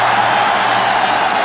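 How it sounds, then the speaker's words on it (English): Cricket stadium crowd at Sharjah roaring during a Pakistan vs India one-day match, a dense, steady wall of noise filling the whole short stretch. "It's enough to get the crowd roaring."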